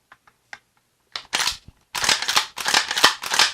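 The pump action of a Stevens 320 20 gauge shotgun is worked by hand, with a few faint clicks followed by a series of loud, close metallic clacks and slides in quick succession.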